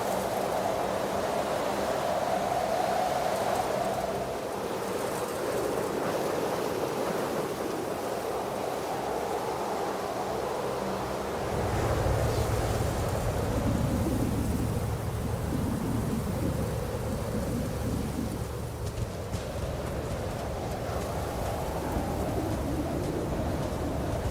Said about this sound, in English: We're still in the storm.